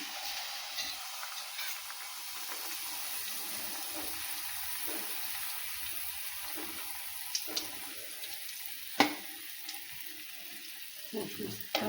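Anarasa, a sweet rice-flour treat, frying in hot oil gives a steady, hissing sizzle, punctuated by a few sharper pops and clinks of utensils.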